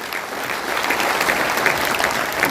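Loud, dense applause from an audience at a gathering honouring Babasaheb Ambedkar's mission, a steady wash of many hands clapping throughout with no voices over it.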